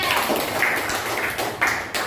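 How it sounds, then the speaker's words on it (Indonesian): Schoolchildren in a classroom clap for a classmate, a short burst of mixed, uneven claps heard up close alongside room noise and some voices. "tepuk tangan buat Mbak Nada"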